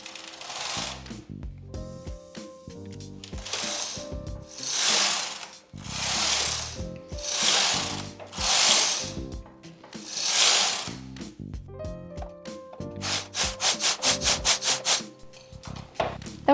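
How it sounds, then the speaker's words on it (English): A knitting machine carriage sweeps back and forth knitting rows of waste yarn on the right side of the bed, making a series of loud rushing passes with rattles, then quicker, tighter clicking strokes near the end, with no talking. "I will knit a few rows of waste yarn only on the right side of the machine"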